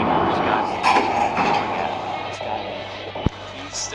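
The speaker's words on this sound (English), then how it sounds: "Please step back from the train is now arriving for Sky." A subway train arrives at a station in a Roblox video game with a steady rumbling roar, a brief sharp clunk near the end and a faint high chime, under a station announcement.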